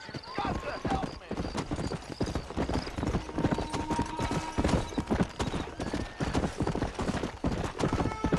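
A horse gallops off with steady, rhythmic clip-clop hoofbeats and a whinny near the start, heard close and continuous under raised voices in a Western drama scene.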